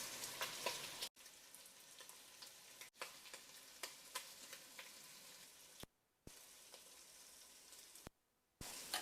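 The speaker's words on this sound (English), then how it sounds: "I'm putting my spices in right now so that I can let them bloom in the oil and the fat" Curry powder, paprika, turmeric and pepper sizzling as they bloom in hot oil and fat, a faint, steady crackle and hiss broken by a few brief gaps of silence.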